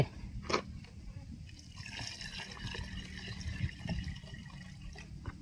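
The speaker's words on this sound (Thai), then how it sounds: "เทน้ำตัวนี้ ลงไป" Water is poured into a bin of food-waste scraps, making a soft, low splashing and trickling sound with a few drips, fairly faint and continuous.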